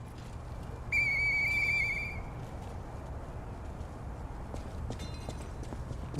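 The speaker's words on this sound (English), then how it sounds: "He's whistling to himself." In the Lies of P video game, a character whistles to himself: a single clear, steady whistled note lasting about a second over a low ambient hum, with faint clip-clop and footstep-like sounds around it.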